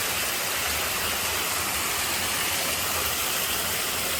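A small waterfall on a stream along the Appalachian Trail gives a steady, close, hissing rush of falling water at an even, unbroken level.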